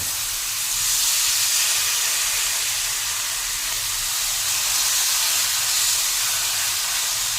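Thinly sliced pork inihaw hisses and sizzles steadily on a hot grill right after being flipped, a continuous close crackle that swells slightly and never drops out, with no voices.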